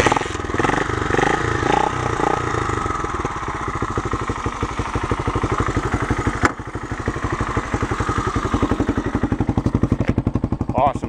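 A 1978 Honda XL 250 motorcycle engine coughs into life and settles into a steady, rapid single-cylinder thumping idle, close and fairly loud, with a sharp clank partway through.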